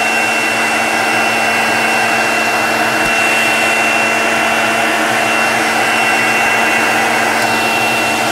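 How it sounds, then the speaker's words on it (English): A juicer running on carrots and ginger gives a loud, steady motor whine and whirring roar that holds constant the whole time, close by with no talking. "No reason to put any undue stress on your juicer."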